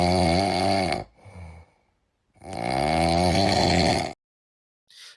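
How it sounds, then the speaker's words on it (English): Two long, loud snoring breaths as a sound effect, each a rough rattling drone lasting over a second, with a softer wheezy exhale between them and a brief snort at the very end. "what you'll have seen is that it's snoring, by the way, in case your attention was grabbed by the sound effect there"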